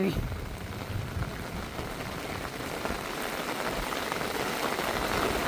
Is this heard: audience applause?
no